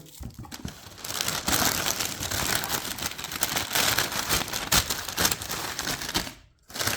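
Dense, continuous crinkling of candy wrappers being handled and pushed into a plastic bag, close and busy, with a brief pause near the end.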